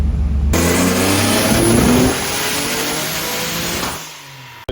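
Turbocharged VQ35DE engine in a Nissan 300ZX revving hard and loud up close, a sustained roar rising then settling and easing off near the end, with no talk.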